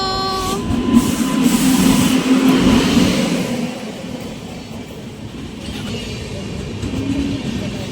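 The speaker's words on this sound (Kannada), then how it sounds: "ಟ್ರೈನ್ ಬಂತು" A train arrives at Mantralayam, rumbling in close and loud, steady rolling noise with a faint squeal, gradually easing off as it slows.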